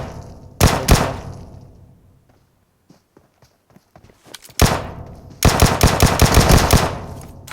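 Gunfire in PUBG Mobile on the Erangel map, two sharp loud shots at the start, a quiet stretch with faint footsteps, then a single crack followed by a sustained rapid burst of automatic fire.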